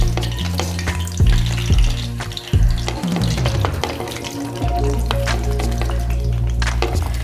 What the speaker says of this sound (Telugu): ఇప్పుడు మనం రెండోసారి వేపుకుందామండి